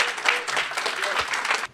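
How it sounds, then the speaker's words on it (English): An audience at a Black Men's Legacy Summit gives a dense round of applause for panelists, steady and loud for under two seconds before cutting off abruptly. "Give them a round of applause."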